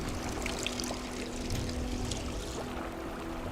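Fresh water flows steadily in a mountain valley, a soft continuous trickling wash with faint splashes and a low steady hum beneath, heard alone at low volume.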